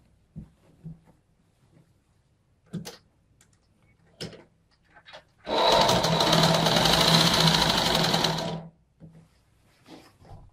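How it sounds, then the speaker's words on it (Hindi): A sewing machine stitches over a Patiala salwar waistband for about three seconds, a loud steady whirring rattle that starts and stops abruptly, framed by scattered soft handling clicks of fabric and machine parts. "आपको इसके ऊपर से सिलाई फेरना है।"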